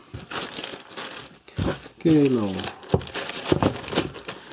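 A plastic bag crinkles and rustles as it is handled close by, in uneven bursts, while someone talks over it.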